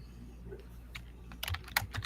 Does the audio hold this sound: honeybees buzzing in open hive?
no